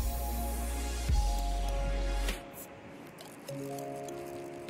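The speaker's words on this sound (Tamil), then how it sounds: "நல்ல வெண்ணெயிலேயே நல்லா வதக்கி விட்டுக்கணும்." Potato and broccoli pieces sauté in butter in a pan, a soft continuous sizzle with occasional squishy stirring noises and a steady background hum, fairly quiet throughout.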